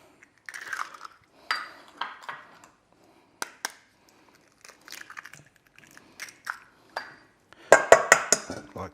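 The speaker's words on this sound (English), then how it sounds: "all you do is break your eggs in the bowl" Eggs cracked into a bowl for a simple custard give a few sharp taps and clicks of shell against the rim, spaced apart in a quiet kitchen, ending with a louder cluster of clinks.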